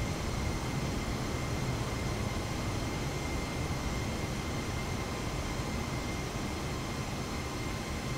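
An airliner lands with reverse thrust and spoilers deployed, heard from inside as a loud, steady broadband roar of rushing air and engine noise with no break or change in level.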